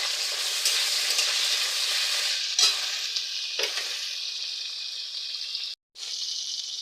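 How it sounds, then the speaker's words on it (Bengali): Pointed gourd slices fry in hot oil with salt and turmeric, giving a loud, steady sizzle broken by a few brief stirring scrapes. "সামান্য নুন আর হলুদ দিয়ে ভেজে নেব"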